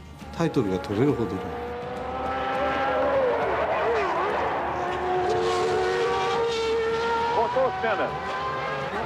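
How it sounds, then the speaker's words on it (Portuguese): A McLaren Formula 1 race car spins off into a gravel trap: high engine whine with rising and falling pitch sweeps, under a commentator's excited talk, with a broad rushing noise through the middle. "Rodou o Senna, foi para a caixa de brita"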